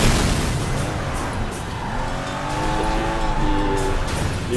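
Cars racing in the video game Sleeping Dogs, a continuous loud engine roar with tire squeal and skidding and rising and falling engine tones.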